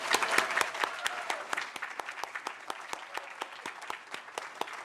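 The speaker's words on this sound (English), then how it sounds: "Can we do one more round of applause?" Audience applause at an awards night, a steady wash of many hands clapping with sharp individual claps standing out, fairly soft and even throughout, with no talking over it.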